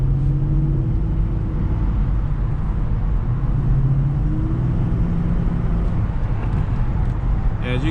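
A Dodge Charger R/T pulls away hard on a street, its engine a steady, dense drone heard from inside the cabin while a driver talks over it.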